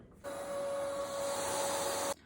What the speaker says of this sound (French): on va mettre le collant sur l'aspirateur, et tu vas la retrouver